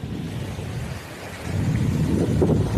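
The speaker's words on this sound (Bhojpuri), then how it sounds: "ये आज के बारिश के पानी है" Heavy monsoon rain with thunder over flooded fields and a waterlogged road in Rajpur, a steady broadband roar that swells louder in the second half with no voices.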